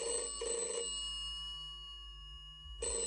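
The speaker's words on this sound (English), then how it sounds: "Last Wednesday morning, Bill rang his office at 9 o'clock." An office telephone rings with short bursts of a trilling electronic bell, a pause between them, and a steady low hum underneath.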